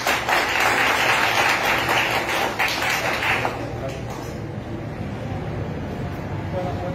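A crowd at a campaign press conference in Pichanaki, Peru, applauds with a dense, steady clatter that fills the first few seconds, then fades into a softer hum of murmuring and background noise.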